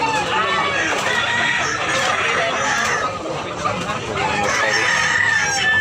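Roosters crow and hens cluck among chickens, the calls repeating close by over a dense, busy background while people talk nearby.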